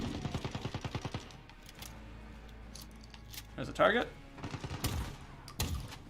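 Rapid bursts of video game gunfire from a hard-hitting, cannon-like gun, with quick repeated shots at the start and later volleys, mixed with game effects while someone speaks briefly.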